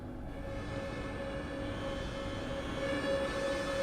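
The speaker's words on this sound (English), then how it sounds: "we're actually blowing out air through our open angle cocks" Steady rushing hiss of brake air venting through open angle cocks at the rear of a BR 145 electric locomotive's train in Train Sim World 6, continuous and fairly loud, with a low rail rumble beneath and no talk.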